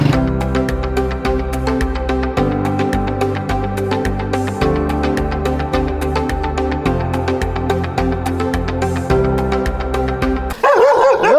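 Several dogs barking in a park, with a steady run of repeated barks and yips close by, keeping a regular rhythm for about eleven seconds, and a whimpering, whining note near the end.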